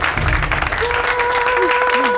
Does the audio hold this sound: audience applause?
yes